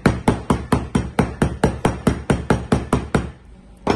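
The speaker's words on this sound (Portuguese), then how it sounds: "Martelo." A hammer strikes a hydrogel screen protector film about fifteen times in a steady, loud, evenly spaced rhythm. A brief pause follows before one last lighter tap.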